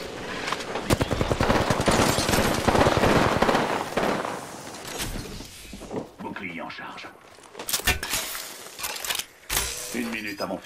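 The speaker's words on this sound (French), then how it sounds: "On me tire dessus!" Rapid gunfire crackles in Apex Legends during a squad fight, a dense burst of shots for several seconds, then sparser bursts and impacts later, with in-game voice lines mixed in.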